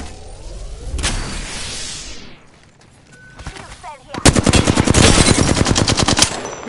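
Automatic gunfire in the video game Apex Legends: a single sharp shot and a sweeping whoosh, a brief lull, then a loud rapid burst of close machine-gun fire lasting about two seconds.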